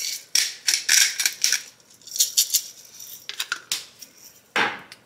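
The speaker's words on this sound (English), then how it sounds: "We're gonna add in the Parmesan, whisk that around" A metal whisk rattles and scrapes briskly against a pot while Parmesan is stirred into grits, producing close, bright, irregular clinking bursts with short pauses.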